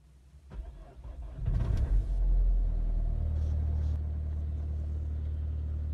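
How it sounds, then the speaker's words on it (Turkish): A car with a freshly revived battery cranks briefly, catches and roars to life, then settles into a steady, even idle close by with no talk. "Şimdi arabayı çalıştırıyorum."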